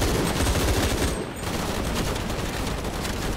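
Dense gunfire rattles through a shooting section of Shadow of the Tomb Raider, with rapid overlapping shots and bursts forming a loud, continuous barrage that dips briefly before resuming.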